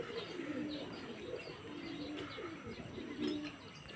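Pigeons coo in soft, repeated rolling calls at moderate distance, steady through the stretch amid open-air background noise at a pigeon-flying session.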